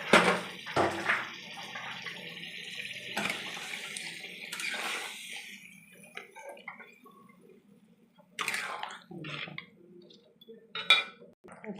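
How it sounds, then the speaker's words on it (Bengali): Water poured from a vessel into meat cooking in a pan for a Bengali meat dish, a splashing gush at first, then scattered trickles and sizzling bursts close by, no talking. "এবার আমি জল দেবো।"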